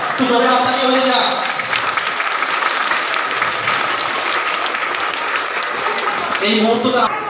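Loud, sustained audience applause fills the whole stretch at an Independence Day celebration in Amtala Knowledge City, with a voice talking over the clapping at the start and again near the end.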